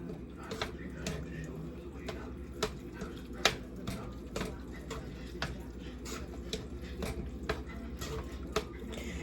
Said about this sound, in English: Keep on chopping until you feel like they ain't big no more.